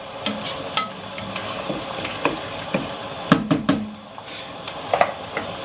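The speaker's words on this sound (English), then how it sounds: "we're just going to leave this one to also fry for at least 5 minutes" Food fries in a pot as a low sizzle, broken by frequent clinks and scrapes of stirring and a few sharp utensil knocks against the pot, close and moderately loud.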